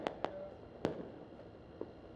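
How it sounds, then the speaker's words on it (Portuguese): Several sharp firework bangs pop at a distance in a Brazilian neighborhood, set off to signal arriving police, irregularly spaced, with one louder crack in the middle against a quiet outdoor background. "A todo momento, fogos anunciam a chegada dos policiais."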